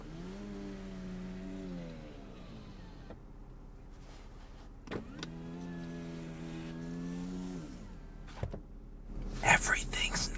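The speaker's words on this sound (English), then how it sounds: "I'm gonna roll down the window." A Lexus RX power window hums down in two smooth motor runs, each a couple of seconds long with a rising and falling whine, inside a quiet cabin, followed by louder outside noise.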